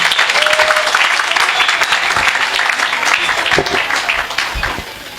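A seminar hall audience claps loudly and steadily for several seconds, the crowd's applause thinning and fading toward the end.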